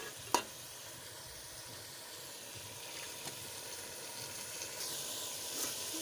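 Pumpkin and lentil mixture frying and being stirred in a pan after a splash of water, a steady low sizzle throughout with a sharp clink near the start and occasional faint scrapes.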